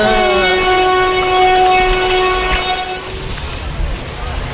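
A train arrives at a railway station, its loud sustained multi-tone horn blaring for about three seconds before giving way to a rolling rumble of wagons.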